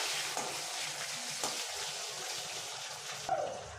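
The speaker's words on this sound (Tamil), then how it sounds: "இப்போ எல்லாத்தையும் சேர்த்து நல்லா வதக்கி விட்டுக்கலாம்" Garlic and shallots sautéing in a pan for a spicy crab curry, a steady soft sizzle with faint scraping stirs, fairly quiet and continuous with no voices.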